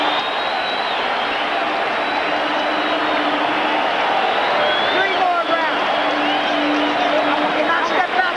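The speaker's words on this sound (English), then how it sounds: "standing and applauding both fighters" Boxing arena crowd rises to its feet roaring and applauding both fighters in a late round, a dense, steady wall of cheering and noise throughout.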